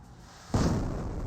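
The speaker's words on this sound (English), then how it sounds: "Oh, good mortar hits there." A mortar shell burst in the Company of Heroes strategy game, a single sudden boom that lands midway and rumbles on with a dense low roar to the end, no speech.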